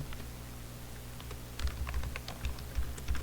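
Quiet computer keyboard typing, soft scattered key taps that pick up into a quicker run of clicks in the second half, close and faint with no talk.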